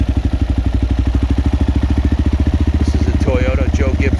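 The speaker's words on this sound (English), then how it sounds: "Look at this Peterbilt. Black, badass Peterbilt." A black Peterbilt semi truck hauling Joey Logano's NASCAR trailer rumbles close by with a loud, rapid, pulsing diesel throb. A voice speaks briefly near the end.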